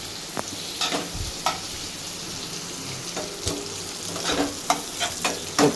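Onions sizzle and fry in a pan for jeera rice, a steady hissing bed broken by occasional scraping stirs and clinks, close and fairly loud with no talking.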